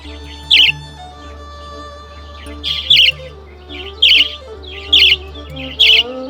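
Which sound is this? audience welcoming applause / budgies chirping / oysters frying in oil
budgies chirping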